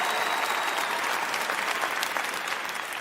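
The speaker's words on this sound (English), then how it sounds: "You guys are clapping" A comedy club crowd claps steadily and loudly during a stand-up set, a dense continuous wash of many hands with no talking over it.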